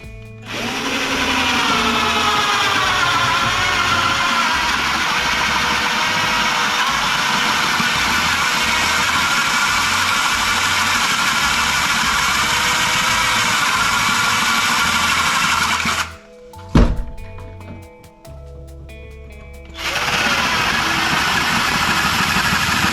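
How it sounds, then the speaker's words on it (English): A cordless drill running low on battery bores into a wooden bonsai grow box, a loud steady whine held for about sixteen seconds, then a brief stop with clunks before the motor starts again. "we'll go ahead and drill the other one"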